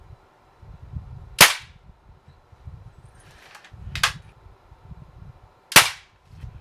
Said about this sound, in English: I'll finish this out with the 10 shots, and then we'll look at the group.